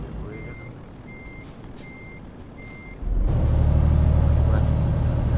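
A truck backing up in Euro Truck Simulator 2, its reversing alarm beeping in a steady regular rhythm, then a loud engine rumble takes over.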